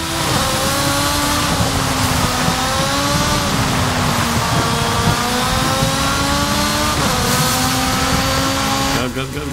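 The tiny Peel P50 revs hard as it accelerates in Forza Horizon 5, a loud, continuous engine whine that climbs in pitch, drops at each gear shift and climbs again, with a voice talking over it.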